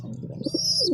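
Pigeons at a fancier's loft give a brief, close burst of cooing and chirping, lasting about a second.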